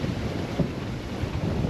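Strong wind roars across the microphone aboard a sailboat in the British Virgin Islands, with a steady, loud rush and water noise underneath.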